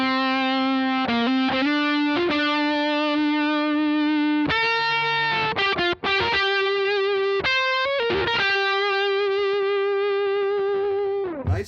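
Electric guitar played through a Walrus Audio Iron Horse V2 LM308 distortion pedal with the gain turned up near three o'clock, giving a loud, sustained, harmonically rich tone of held notes and chords with brief breaks, no talking.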